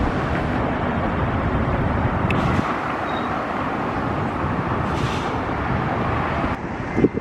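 Strong wind buffets the microphone at an outdoor construction site at Disneyland in California, a continuous loud rushing roar with faint distant traffic beneath.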